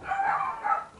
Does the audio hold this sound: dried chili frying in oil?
no